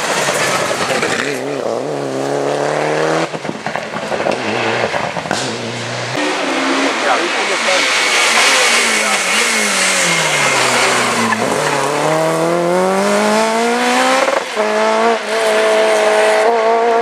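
Rally cars race past on a stage of the 2014 Rally de Naron, with engines revving and climbing in pitch, gear changes and some tyre squeal, loud and steady throughout while spectators talk.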